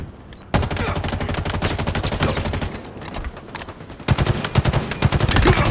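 Rapid automatic gunfire from a weapon in Halo Infinite, loud and close, with dense bursts of shots that pause briefly around the middle before a fresh volley kicks in near the end.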